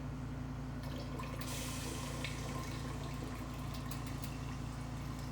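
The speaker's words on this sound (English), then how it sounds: "we're going to add some water to it." Water pours steadily into a tank during an automated batch-process demonstration, a continuous rushing fill over a low, constant machinery hum with no talk.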